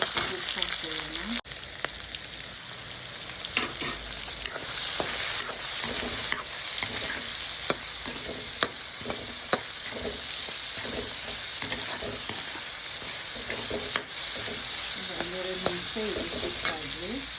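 Soya chunks frying and stirred in a pan with salt, a steady close sizzle with constant scraping and stirring strokes throughout, no talking.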